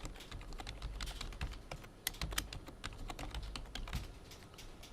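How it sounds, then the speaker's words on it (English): Someone types a password on a computer keyboard, a quick run of close, crisp keystrokes in an uneven rhythm with no speech. "I'm going to give the regular password."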